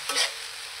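Paneer chili frying in a pan gives a brief hissing sizzle with one quick stirring scrape, close and alone.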